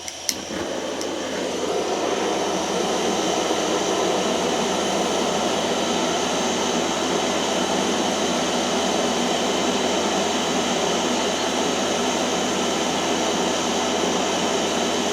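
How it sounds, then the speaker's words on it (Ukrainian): A gas burner on a homemade smoke generator for a smokehouse, lit and roaring steadily with a broad, continuous rushing noise after a brief click at the start, close and loud throughout. "Так, підпалюємо горілку."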